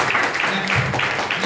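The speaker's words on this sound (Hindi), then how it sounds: "एक बार जोरदार तालियां सबके लिए।" Loud audience applause at a health and wealth awareness event, a dense wash of clapping with crowd murmur, brief and sustained.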